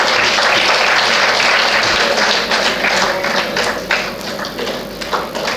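An audience at a Rotary lecture series claps loudly for the speaker, a dense burst of applause that thins into scattered claps toward the end.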